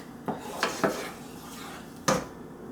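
A spoon stirs milk into chipped beef gravy in a pan, making a few sharp metallic scrapes and clinks against the pan at irregular intervals, close and fairly quiet, with no talking.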